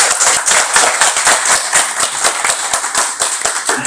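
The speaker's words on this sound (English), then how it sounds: "can we clap a little loudly for sir?" Loud, energetic audience clapping before a fireside chat on sustainable hospitality, many hands striking in a fairly regular, rapid rhythm that sounds close and fills the whole stretch without talk.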